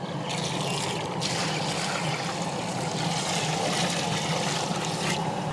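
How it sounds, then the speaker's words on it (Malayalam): Water pours steadily into a pan of whole fish curry with masala, a continuous soft trickle and splash, fairly faint, with outdoor rain noise around it. "അപ്പൊ ഇനിക്ക് വെള്ളം ഒഴിച്ചു കൊടുക്കാണ് നമ്മള്."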